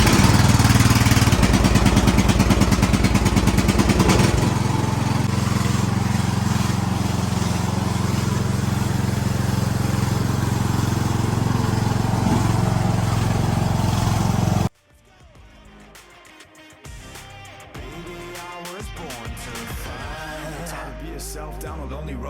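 A small engine started with the choke on runs loud and steady close by for about fifteen seconds, then cuts off abruptly, leaving quieter background sounds.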